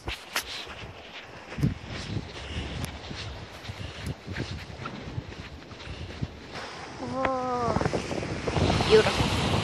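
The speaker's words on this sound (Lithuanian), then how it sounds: "Jūra." Wind gusts and rolling surf at a seashore, a steady rushing roar that builds toward the end, with brief voices heard over the wind.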